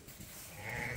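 Sheep bleating on a farm where lambs are being let out, a single close bleat with a nasal, wavering tone.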